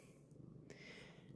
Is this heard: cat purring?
yes